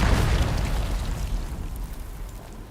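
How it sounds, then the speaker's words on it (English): Bomb hidden in a food box in Dune Awakening going off as a close, loud booming blast that rumbles and slowly fades. "Oh, it's a bomb."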